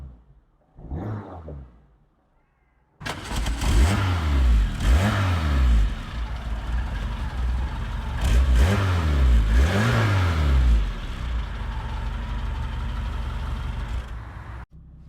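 A small 1.1-litre Citroen AX car engine cranks briefly, then fires up loudly with a few revs before settling into a steady idle that abruptly stops.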